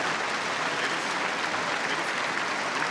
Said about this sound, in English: And the encouraging applause here.